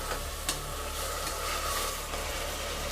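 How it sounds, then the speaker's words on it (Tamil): Ginger garlic paste fries with onions in a pan for prawn biryani, with a steady sizzle and occasional stirring scrapes from a spoon. "எடுத்து வச்சுருக்க இஞ்சி பூண்டு பேஸ்ட்டை சேர்த்துடலாம். இப்போ அதையும் நல்லா கலரி விட்டுடலாம்."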